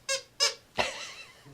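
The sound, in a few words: squeaky couch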